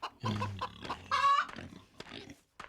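Roosters in the Wild West Dynasty game give a few close clucking, crowing calls, one longer strained crow in the middle, set against quiet farmyard surroundings.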